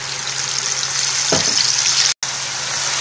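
Spice masala hits hot oil for a jackfruit curry, bursting into a loud, steady sizzle with a brief stir partway through and a momentary cutout.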